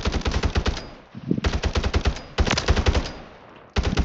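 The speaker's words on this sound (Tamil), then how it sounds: "அந்த பட்டன் ப்ரெஸ் பண்ணினா டபுள் ஃபயர் ஆகும்" Fast automatic weapon fire in the shooter game Warzone 3 with a double-fire setting, delivered as loud, rapid, evenly spaced shot bursts separated by brief pauses, with no talking.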